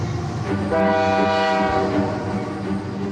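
Canadian Pacific freight train Train 100, a fully loaded 26-car hot train, goes by close and loud with a steady rumbling roar and a sustained horn blast.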